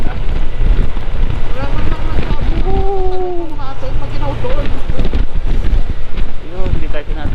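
Strong wind buffets the microphone throughout a motorcycle ride, a steady loud rushing roar with gusty swells, while someone talks over it at times.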